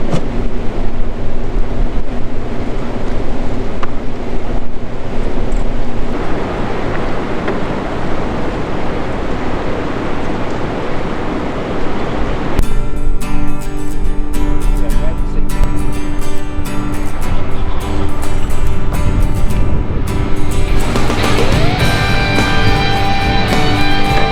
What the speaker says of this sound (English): as you can see, the water gets real rough where they're letting it out